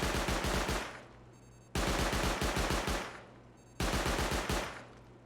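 Auto turret in the game Rust firing rapid automatic bursts, three loud close volleys of gunfire each fading out, with no talk.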